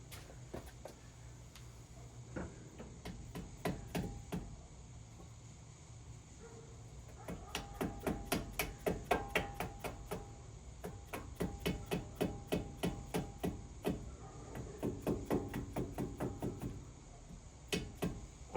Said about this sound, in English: this one I'm gonna have to hammer in